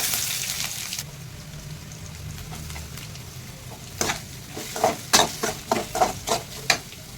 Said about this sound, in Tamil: இது வந்து நல்லா ஃப்ரை ஆகட்டும்.